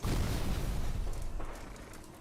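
An explosion in the video game Sherlock Holmes: The Devil's Daughter hits as a loud, broad roaring blast right at the start and then slowly rumbles and fades over a couple of seconds.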